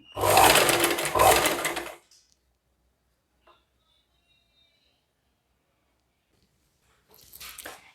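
A sewing machine stitching an embroidered blouse, running in two short close bursts at the start, then near silence, then whirring again briefly at the end.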